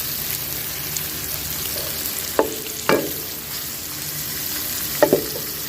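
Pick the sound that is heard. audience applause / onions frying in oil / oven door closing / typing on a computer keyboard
onions frying in oil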